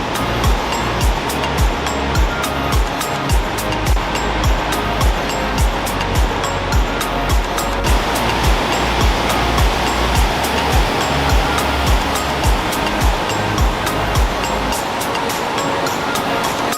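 Wallace Falls roars in a steady, loud rush of falling water heard up close at a Washington state park, with a dense broadband wash and low rumble continuing throughout and no speech.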